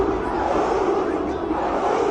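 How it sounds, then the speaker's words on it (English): A stadium crowd in an American football video game roars and shouts continuously during a replay, a dense, steady wall of massed voices with no single caller standing out. "Plenty of shouts from this crowd as they watch the replay."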